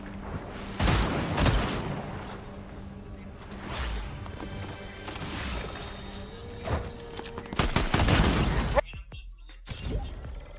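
A legendary shotgun fires in Fortnite, with a few heavy, booming blasts standing out from busy game noise and a voice talking at times.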